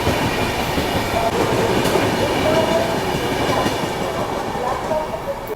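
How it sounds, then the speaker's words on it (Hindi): The Central Railway Mumbai Rajdhani Express pulls out of Hazrat Nizamuddin station, heard from on board as a steady rumble with rhythmic wheel clatter and faint squeals. "अपने एकदम शेड्यूल टाइम से शाम के 4:55 पे अपनी सेंट्रल रेलवे की मुंबई राजधानी निकल रही है हजरत निजामुद्दीन रेलवे स्टेशन से"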